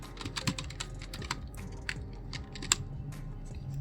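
Typing on a computer keyboard, a quiet, close run of irregular key clicks and taps over a few seconds, with no voice.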